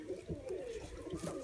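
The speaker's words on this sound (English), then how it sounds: "Precious bird." Pet pigeon or dove giving a few soft, low coos in a quiet room, faint and close, with no talking.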